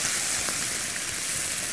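Chopped cabbage fries in a hot pan with a steady, loud, close sizzle and crackle that holds evenly throughout, with no voices.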